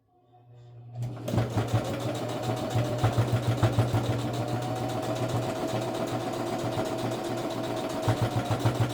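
A sewing machine top-stitches a makeup bag, its motor starting after a moment of quiet and then running in a steady buzzing hum with rapid needle clatter and brief pauses.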